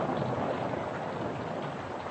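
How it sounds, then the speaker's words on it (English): Pelting rain made as a radio drama sound effect, a dense, steady hiss of driving rain that stays loud and unbroken throughout, with a slightly muffled, band-limited old-broadcast quality and no voices. "He stepped out into the pelting rain."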